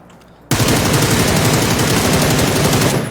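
M7 rifle spray fire through a 3x scope in the PUBG video game: a loud, rapid, unbroken burst of automatic gunshots starting abruptly and continuing for under three seconds, with no voices.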